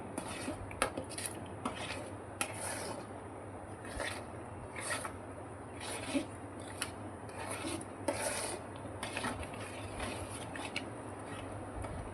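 A spoon scrapes fast around a pan of thickening barfi mixture, giving continuous rubbing and clinking strokes in a quick, uneven rhythm, fairly close and soft.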